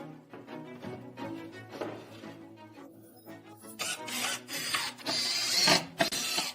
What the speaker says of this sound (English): Let's sand it off quickly.